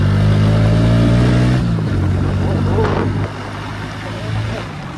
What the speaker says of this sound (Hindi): तो अभी थोड़ा चलाते हैं अपनी बाइक को